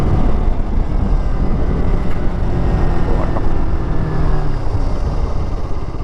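A Bajaj Pulsar RS200 motorcycle cruising at about 80 km/h gives a loud, steady engine drone mixed with heavy wind rush, with no one talking.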